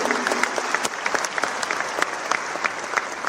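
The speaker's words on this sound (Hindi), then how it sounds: "आप लोग खुश हो, ताली बजा रहे हो, हर्षनाद कर रहे हो" A large crowd claps and cheers during a political speech at a Maheshwari community event in Jodhpur, a dense, steady wash of applause with sharp individual claps and shouts throughout, loud and close.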